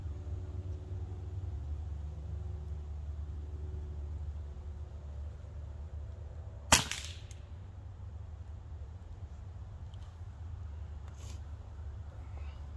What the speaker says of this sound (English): We got one more in the pellet, so we're going to shoot it anyway.